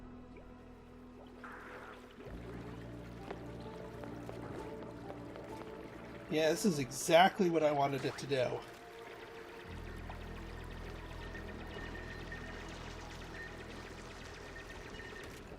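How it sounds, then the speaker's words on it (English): Water floods through dug tiles in the colony game Oxygen Not Included, a brief splashy gushing rush midway through steady in-game ambience, while someone talks over it. "And it's okay if the water goes flooding past them."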